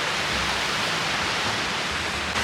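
Ocean waves wash onto an empty beach in Thailand as a steady, full hiss of surf, continuous and fairly loud, with no voices.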